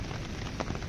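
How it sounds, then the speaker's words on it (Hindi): Heavy monsoon downpour drumming steadily on surfaces outdoors near a parked car, a dense, even hiss of rain throughout the brief moment. "बारिश मूसलाधार लगी हुई है, देखिए बहुत तेज़ बारिश लगी है।"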